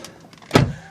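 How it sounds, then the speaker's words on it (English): A soft-close door on a BMW E70 X5 xDrive 5.0 V8 pulls shut with a short motorized whir ending in a single muted thump, close by and heard alone. "sound of the doors closing, soft closing there as well, just to demonstrate that again"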